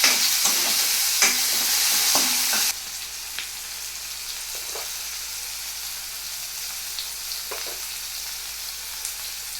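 Spices including coriander, turmeric and chilli hit frying ridge gourd for a Kadhi-style jhol, with a loud, dense sizzle for the first few seconds that then settles into a quieter frying hiss broken by a few stirring knocks.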